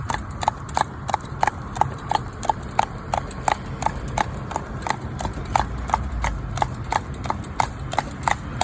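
Hooves of a cob horse pulling a driving carriage clip-clop in a quick, even trotting rhythm on a hard road in traffic, steady and close, over a low background rumble.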